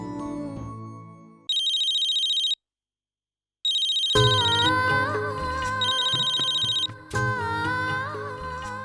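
An electronic phone ringtone chimes in short bursts with a pause between, followed by a fuller melodic ring tune.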